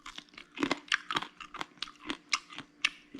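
Crispy lechon kawali pork belly skin crunches in close, loud bites and chews, about a dozen sharp crackles in an uneven rhythm with no talking.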